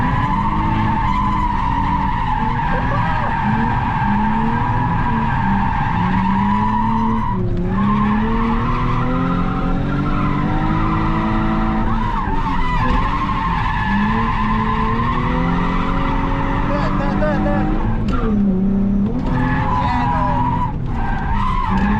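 A car drifts around a track in Japan, engine roaring close and loud while sustained tire squeal wails through long slides, pitch shifting as the throttle and angle change.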